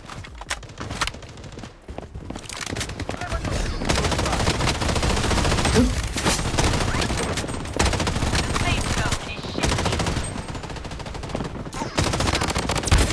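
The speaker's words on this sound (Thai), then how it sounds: "เหมือนมีเขายิงฝั่งโน้นเหรอ ข้างหลังเราปะเนี่ย" Gunfire in the shooter game Blood Strike, a fairly loud stretch of dense, overlapping shots and bursts that carries on almost without a break, with game ambience underneath and no clear talk.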